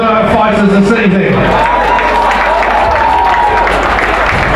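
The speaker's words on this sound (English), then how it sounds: "a massive round of applause for both of our fighters this evening" Applause and cheering from a crowd at a boxing fight night fill the hall loudly and continuously while an announcer's amplified voice carries over the top.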